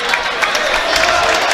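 Basketball arena crowd at a YU Macs vs. Purchase college game, reacting to a foul call with a steady, dense wash of murmuring and disapproving voices, fairly loud and continuous without distinct cheers.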